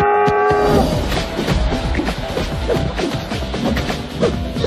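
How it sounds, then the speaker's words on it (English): A cow moos after a brief tonal intro, its low drawn-out call sitting amid busy farmyard background noise. "C for cow."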